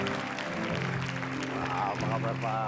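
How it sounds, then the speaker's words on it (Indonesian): A studio audience on an Indonesian evening talk show applauds steadily beneath a loud male host's voice, which carries over the clapping throughout. "tepuk tangan untuk Pak Adi Wijaya."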